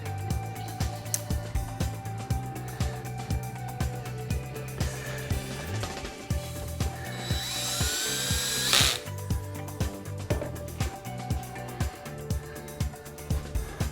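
A power drill drives screws during a motor replacement on a Magicycle Cruiser e-bike: short whirring bursts and a sharper spell of high whine between rhythmic clicking and ticking, close up and fairly quiet.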